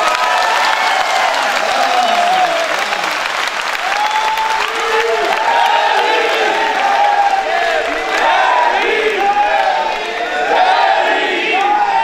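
A large crowd at a political speech bursts into sustained applause with cheering and shouted whoops, loud and continuous throughout, with voices rising and falling within the roar.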